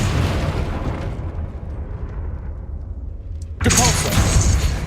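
A Confringo explosive spell blast in the Hogwarts Legacy video game erupts as a sudden loud burst partway through, cutting in over steady rumbling game noise and ringing on to the end.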